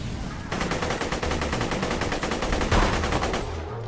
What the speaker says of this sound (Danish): fyre alle mine skud af her.